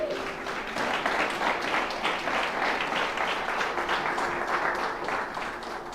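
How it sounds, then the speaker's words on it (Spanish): A church congregation applauds together, a steady, moderately loud wash of clapping lasting several seconds without pause. "dale un aplauso al Señor"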